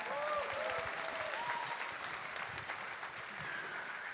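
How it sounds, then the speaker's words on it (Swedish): Audience claps steadily in a church hall during a New Wine gathering, a dense, even wash of applause from a crowd at moderate distance, with a faint voice briefly audible. "Man får applådera i det här huset."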